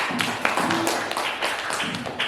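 Ninth-grade civics class clapping for a student after a presentation, a near ragged burst of hands clapping unevenly and fairly loudly for a couple of seconds.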